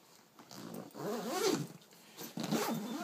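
A camera bag zipper drawn closed in a few close, scratchy pulls, loud and near with no talking over it.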